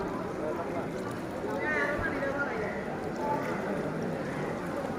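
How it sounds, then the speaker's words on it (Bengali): A wooden rowboat is pulled along by its boatman on the Arambag river in Bangladesh, giving a steady wash of water and hull noise with faint voices murmuring in the background. "আমাদের মাঝি কাকা নৌকা টাইনা টাইনা নিয়ে যেতেছে।"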